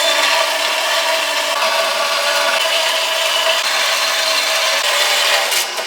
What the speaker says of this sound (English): let's head over to the bandsaw and trim them down